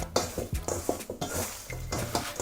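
Raw chicken wings and baking powder being worked together by hand in a bowl, giving close, irregular wet squelches and soft slaps with occasional light knocks against the bowl.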